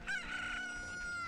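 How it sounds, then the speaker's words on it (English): A chicken in Kakariko Village in Zelda: Ocarina of Time gives a brief, tonal, drawn-out crowing call, faint and alone for about a second. "Now, with Kakariko Village awake and during the day, we see chickens."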